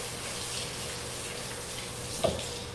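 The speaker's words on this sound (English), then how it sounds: "I'm gonna rinse my hands" Hands rinsed under a running kitchen tap, a steady close wash of water with a brief louder splash near the end.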